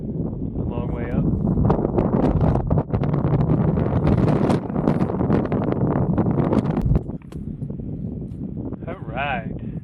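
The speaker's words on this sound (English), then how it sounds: "As you can tell, it's super windy." Strong gusting wind buffets the microphone at Gunsight Pass on Kings Peak, a loud, continuous broadband roar close up that eases briefly near the end, with muffled voices faintly under it.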